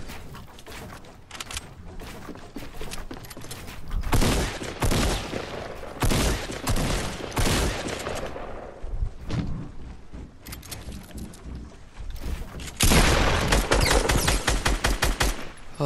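Bursts of video game gunfire rattle through, with dense automatic fire and scattered single shots coming in waves and peaking loudly near the end.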